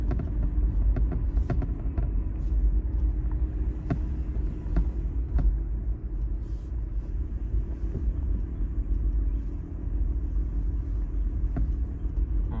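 A car rolls slowly around a campground loop, its steady low engine rumble and road hum continuous and close throughout, with occasional faint knocks and rattles over the drone.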